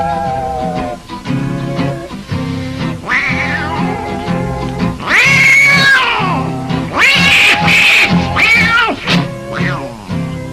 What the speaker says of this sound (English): now that old tomcat started a fight. And this is the way it all did sound to me.